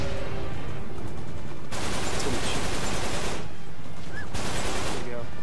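Uncharted 3 video game gunfire, dense bursts of rapid automatic shots in loud stretches separated by brief lulls, with talking mixed underneath.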